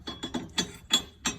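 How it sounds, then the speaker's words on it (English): A slide hammer knocks a bearing casing out of a VL Commodore differential housing, six sharp metallic clanks in a quick uneven rhythm, close and fairly loud, with no talk. "If you can just get a slide hammer, you can pop it out."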